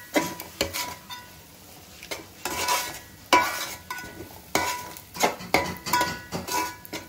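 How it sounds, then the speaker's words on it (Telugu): A spoon stirs fish curry masala in a pan, giving irregular bursts of scraping and clinking against the metal with a soft sizzle in the gaps between strokes. "ఇదైతే చక్కగా కలిపేసుకోవాలి"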